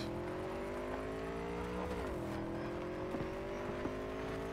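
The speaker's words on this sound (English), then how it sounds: "Also like the sound of this motorcycle." A motorcycle engine in the video game Cyberpunk gives a steady, loud droning hum with layered tones that dip briefly midway and then hold, running continuously with no talk.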